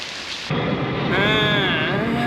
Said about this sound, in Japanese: ついてないよな、雨だなんて。